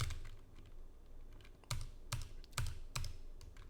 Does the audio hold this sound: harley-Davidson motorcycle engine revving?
no